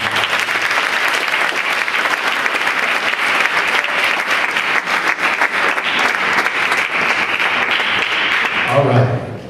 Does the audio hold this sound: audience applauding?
yes